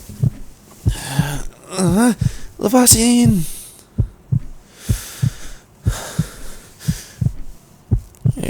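Heartbeat sound effect in an ASMR roleplay, steady soft double-thump pulses repeating at an even rhythm, with a close voice speaking over the first few seconds before the beats continue alone.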